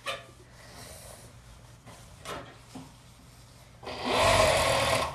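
An electric sewing machine stitches fabric pieces together, running in short bursts at first and then in a louder, sustained whir near the end, close and alone without talk.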